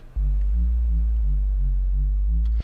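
A pure FM8 sine wave layer with a frequency ratio of 2, part of a halftime bass patch, holds a steady low tone for about two and a half seconds and then cuts off abruptly.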